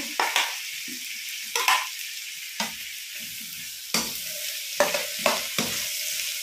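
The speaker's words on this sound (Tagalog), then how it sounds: "Para lang tayo magigisa, guys. Lagay na natin ang ating tomatoes." Tomatoes sauté in a hot pan for a vegetarian pasta with a steady, crackling sizzle, broken by repeated scraping strokes of a utensil stirring them.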